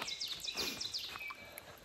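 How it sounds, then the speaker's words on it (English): Birds chirp and tweet on the Appalachian Trail in the morning, a continuous run of faint, high, repeated calls with no talking. "And birds are chirping."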